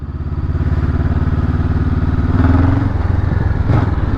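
Honda CB500F 2022 twin-cylinder engine while riding, a loud close pulsing drone that rises slightly in pitch under acceleration with wind noise, no talking.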